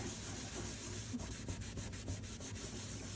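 Ink being rubbed across a note card to blend it gives a steady, close dry rubbing and scrubbing with a few quick back-and-forth strokes, alone and without talk.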